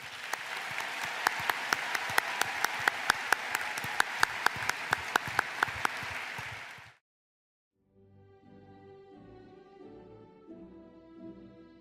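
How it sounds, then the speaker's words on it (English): Applause for graduates at a virtual commencement ceremony: a dense round of clapping with sharp individual claps poking through, cutting off abruptly after about seven seconds, followed by soft music. "Please join us in giving these graduates a well-deserved round of applause."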